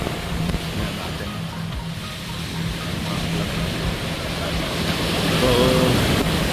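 Steady roar of heavy surf with a continuous wash of breaking waves and wind buffeting the microphone, building slightly louder toward the end.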